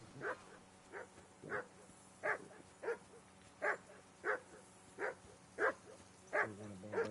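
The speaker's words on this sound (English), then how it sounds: "Henry, that barking's driving me nuts" A dog barks repeatedly in Kingdom Come Deliverance 2, a medieval video game set around a bandit-raided camp, each single woof spaced about every half second to second in a steady, moderately loud rhythm.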